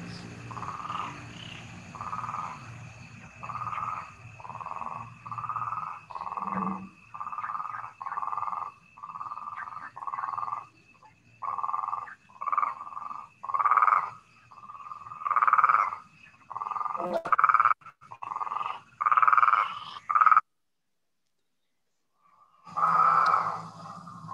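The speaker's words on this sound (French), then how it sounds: "on peut commencer par écouter les crapauds" Toads croak beside a palm grove near Marrakech, a long series of evenly spaced, pulsing calls that grow louder and more insistent, nearby and clear against a quiet background.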